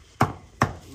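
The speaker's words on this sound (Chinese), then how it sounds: "你还没砍好吗？" Two sharp, loud cleaver chops on a board in a home kitchen, close up and evenly spaced, with quiet room tone between the strikes.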